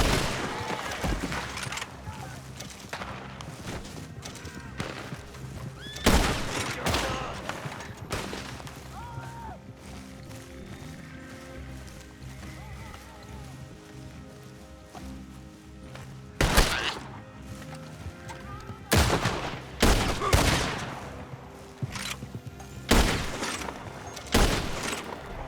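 Gunshots in Red Dead Online, a western shooter: scattered sharp, loud reports spaced irregularly across the stretch, some in quick clusters, over quieter game ambience with occasional speech.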